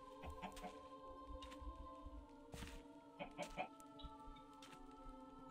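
Chickens in Minecraft cluck in short scattered bursts over a quiet game background, with several close clucks and a few sharper calls spread across the stretch.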